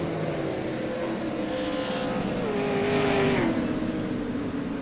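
Super late model race cars roar around Oxford Plains Speedway, engines droning steadily with pitch shifting as cars pass and swell slightly louder midway.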